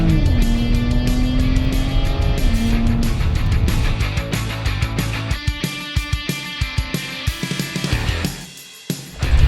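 A track taxi car is driven fast on a motorsport circuit, with its engine climbing through gear shifts to a loud rushing roar, then ticking bumps and wind buffeting toward the end, with no talk.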